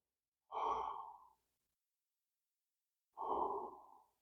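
Two slow, deep breaths during a seated chair yoga stretch, each a long, soft whooshing exhale heard close up against near silence, with a gap of about two seconds between them.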